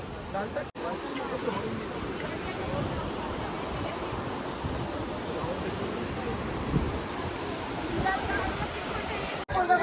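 A river rushes past its bank in the hills on the way toward Madhyamaheshwar near Kedarnath, a steady, loud broadband roar of flowing water that fills the whole stretch with no break.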